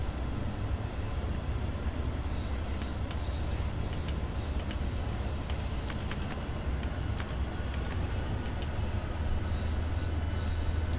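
Simulated train in Train Sim World, with a RailAdventure V60 locomotive hauling DB Regio double-deck coaches: continuous loud rumble of running rolling stock with steady high wheel squeal and scattered clicks, no talk.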